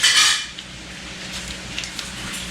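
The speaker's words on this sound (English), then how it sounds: "I'm just going to grease my pan with butter." A baking pan for sweet cornbread is greased with butter, starting with a brief metallic scrape and clatter, then quieter rubbing and small taps against the pan.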